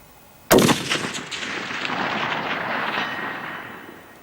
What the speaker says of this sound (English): let's just see how we go with putting some rounds down range at this distance